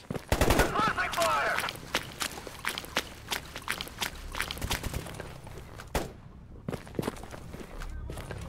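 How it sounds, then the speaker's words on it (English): Rapid suppressing gunfire against mutants in the shooter game Stalker GAMMA, with dense bursts of close shots and clattering footsteps, and a voice talking over parts of it. "Not sure suppressing fire works against mutants."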